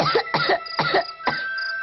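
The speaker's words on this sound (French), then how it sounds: "Un enfant qui tousse la nuit," A child coughs four times at night in a quick, rhythmic series, close and fairly loud, the last cough trailing off into a faint wheeze.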